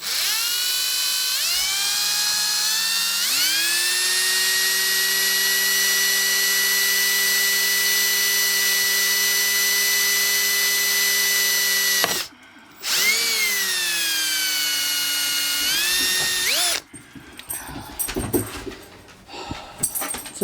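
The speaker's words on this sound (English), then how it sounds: "But I'm going to start drilling" A power drill bores a hole through wood while building a dimmable light box, its whine rising and holding steady for about twelve seconds, cutting out briefly, then spinning up again before rougher, broken grinding noises near the end.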